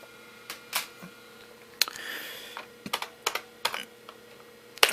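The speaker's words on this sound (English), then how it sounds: "I think we just type PS to get it going" Rapid, uneven keystrokes on an IBM PS/2 computer keyboard, Model 8530-021, clacking close by in short bursts and single taps over a steady low electronic hum, with no voices.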